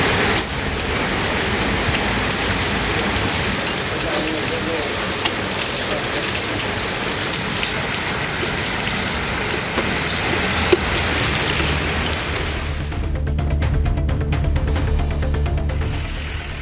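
Moderate rain falls steadily on surfaces around Sriperumbudur, Oragadam, Walajabad and Uthiramerur in Tamil Nadu as a dense, even hiss. The texture shifts to heavier, closer patter toward the end.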